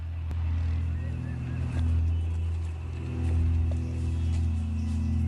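Hovercraft engines approaching with a loud, steady low drone and droning harmonics that swell and ease slightly, with faint background sounds throughout.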